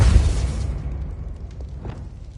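Expulso explosion spell in Hogwarts Legacy, a loud close boom that decays into a rumbling tail over about two seconds, no talk.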